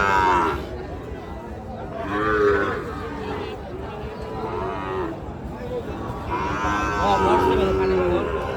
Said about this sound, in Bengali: হাটে কিন্তু খুবই সুন্দর মানের ষাঁড় বাছুর গরুগুলো আমদানি হয়ে থাকে